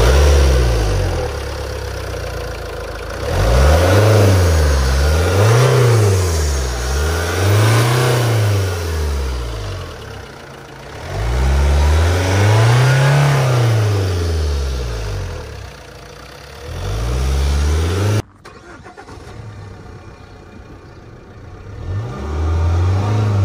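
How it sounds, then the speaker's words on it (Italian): Fiat Freemont 2.0 diesel engine of about 140 hp, heard up close as it runs and is revved repeatedly in several rising and falling surges, then settles to a rough idle near the end. "ascoltiamo adesso il motore e poi esaminiamo anche gli scarichi."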